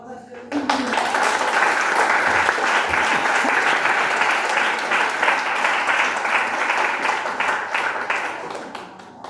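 A sustained burst of audience applause at an art and testimony event in Fréjus swells in quickly and holds strong for several seconds, a dense wash of many hands, with a voice briefly audible underneath.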